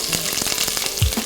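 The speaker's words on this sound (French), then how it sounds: "Une fois que c'est fait, on ajoute l'oignon" Onion sizzles steadily in hot Dinor oil in a pot, a loud, close, continuous frying hiss with a brief low clunk near the end and no voices.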